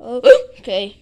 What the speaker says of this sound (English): Are your hiccups still there?